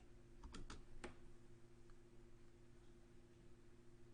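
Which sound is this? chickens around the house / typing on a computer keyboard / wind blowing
typing on a computer keyboard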